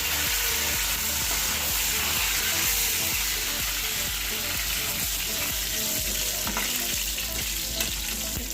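Curry leaves crackle and sizzle in hot oil for a paneer tomato curry, a steady dense frying hiss with stirring clatter running throughout, close and loud with no talking.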